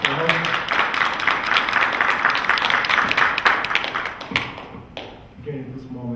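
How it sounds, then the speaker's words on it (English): An audience at a healthy living TV show event breaks into sustained applause, a thick wash of clapping that thins out toward the end, with voices mixed in underneath. "round of applause"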